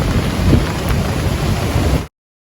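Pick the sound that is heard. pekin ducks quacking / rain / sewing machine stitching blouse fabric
rain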